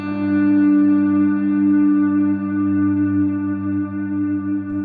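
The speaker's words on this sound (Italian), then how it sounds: "Dura anche molto di più la coda del riverbero." An electric guitar played through a Walrus reverb pedal holds a sustained, shimmering chord that washes into a long, bright reverb tail, loud and steady with no talk.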